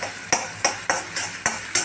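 A utensil stirs chopped onion and green chillies frying in a pan for an amaranth vegetable dish, giving about six steady, evenly spaced scraping strokes close by.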